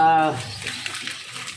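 Broth poured into a cooking pot for steamed galunggong fish, a brief splashing pour that follows the end of a spoken phrase, close and moderately loud.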